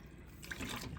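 Lukewarm tap water runs steadily from a kitchen spigot, a soft continuous trickle that swells slightly in the second half, close by with no talking.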